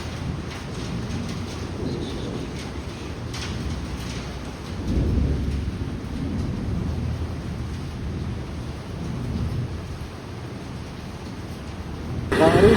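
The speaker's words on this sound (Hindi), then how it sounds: "अरे भाई बाहर कितनी तगड़ी बारिश आ रही है देखो" Heavy thunderstorm rain pours steadily and loudly, with deep rolls of thunder swelling through it; there is no talking.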